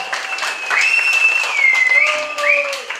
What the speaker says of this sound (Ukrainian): Під ваші оплески, бурхливі ваші файні оплески